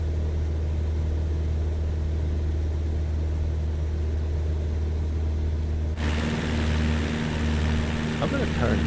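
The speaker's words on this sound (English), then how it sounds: "I'm gonna turn down the airplane noise a little bit." Propeller airplane engine drone from a flight simulator game on an Argentina leg of a world tour, a steady loud hum that shifts in tone partway through.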